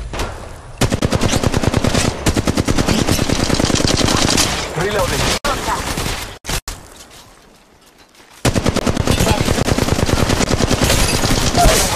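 Rapid automatic weapon fire in the mobile battle royale game Apex Legends Mobile: long, loud sustained bursts of gunfire with brief breaks and a short quiet gap before shooting resumes.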